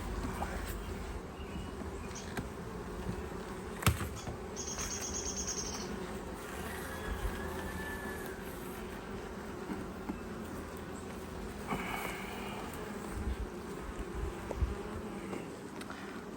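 Honey bees from a package colony hum softly and continuously while a hive is opened for inspection. The buzzing stays as a faint, steady drone with occasional clicks and handling knocks.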